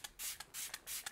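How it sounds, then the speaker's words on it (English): Smashbox Photo Finish primer water misted onto a face as setting spray: three quick, soft hissing pumps, close and alone. "So I'm just gonna use it as my setting spray today."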